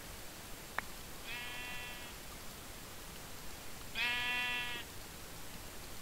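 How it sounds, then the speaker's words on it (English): Two sheep bleats from Minecraft, a short one followed by a louder, longer one a few seconds later, over quiet background hiss with a small click before them. "These sheep are distracting me."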